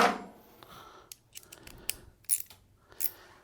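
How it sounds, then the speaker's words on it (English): A 7 millimeter socket wrench clicks and ratchets on a clogged gicleur valve of a Stone espresso machine, with sharp metallic ticks and short scraping bursts spaced across a quiet close-up. "we're going to take a 7 millimeter socket wrench"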